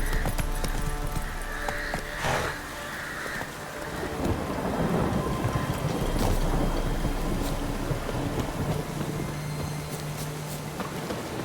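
Horse hooves clatter in a rhythmic gallop through the Witcher 3 game world, half buried under heavy rain and rolling thunder, the clip-clop steady and mid-distance beneath the storm.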